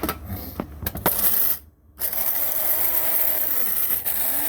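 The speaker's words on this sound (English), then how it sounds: "You grind it, and then you shake it." Coffee beans being ground for French coffee: a few sharp clicks and taps, then a brief pause, followed by a steady, loud grinding roar that runs to the end with no voices.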